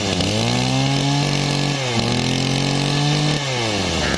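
A Mitsubishi TB27 27cc two-stroke grass trimmer engine revs loud and close, its buzzing pitch rising and falling in about three throttle blips with no pause between them.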